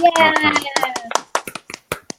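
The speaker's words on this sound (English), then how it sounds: "We need the clapping." A few people clap in a scattered, uneven burst at the end of a podcast chat, the claps thinning out to single slaps while voices talk and cheer over the start.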